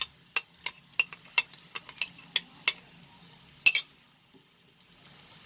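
A spatula clinks and scrapes against a pan in a quick series of sharp taps over a faint frying hiss as marinated chicken goes in with onions, then things go quieter.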